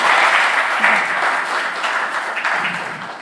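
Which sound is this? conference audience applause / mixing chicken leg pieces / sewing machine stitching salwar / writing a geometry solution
conference audience applause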